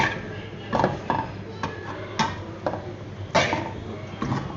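Chicken and capsicum being stirred in a pan for white sauce pasta: irregular scrapes and clinks of a utensil against the pan, moderately close, with a few sharper knocks and a faint background hum.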